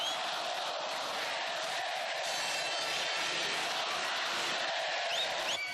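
São Paulo football supporters at the Morumbi stadium celebrate the 2005 world title, a dense, steady roar of crowd voices with whoops and shouts blending together at a distance.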